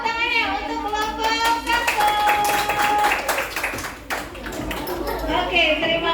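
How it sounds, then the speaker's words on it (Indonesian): A classroom of children claps for a student group, a short burst of applause mixed with kids' voices and chatter, with an adult voice speaking over it. "Kasih tepuk tangannya untuk kelompok"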